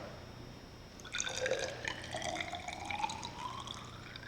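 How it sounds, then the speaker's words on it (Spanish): Water is poured into a container resting on a laboratory scale, a quiet, steady trickle with a rising, filling pitch over a few seconds, heard alone. "agregamos la cantidad de agua"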